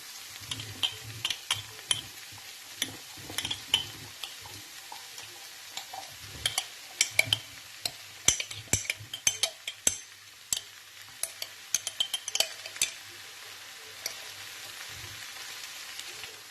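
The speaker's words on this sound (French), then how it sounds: "Après avoir égoutté les pois chiches, on les rajoute dans la poêle." Drained chickpeas hit a frying pan and get stirred, giving a soft, low sizzle broken by irregular sharp ticks and clatters of a utensil against the pan, quiet overall with bursts of scraping.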